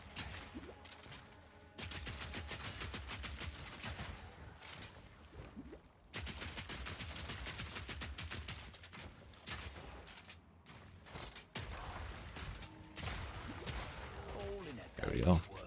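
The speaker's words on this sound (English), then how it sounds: "If shooting them 1 time doesn't work, shoot them 300 times." Rapid, sustained gunfire from shooting enemies in the video game Path of Exile 2, with long dense bursts broken by short pauses and layered with game effects and music.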